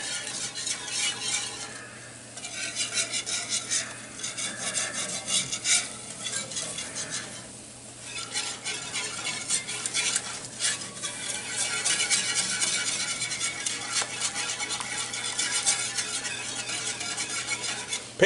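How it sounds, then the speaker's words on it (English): A whisk scraping and stirring deer sausage gravy across the bottom of a skillet, continuous rhythmic metal scrapes over a low sizzle, close and fairly loud with no talk. "You can feel it with this whisk, and you can hear that skillet getting smooth again on the bottom"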